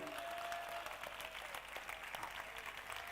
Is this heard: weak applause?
yes